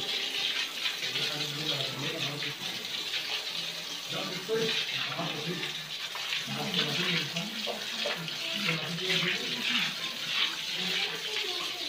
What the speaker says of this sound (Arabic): شايفين المية بقى بتبيضها ازاي، بتنزل بقى كل المية اللي مش نظيفة.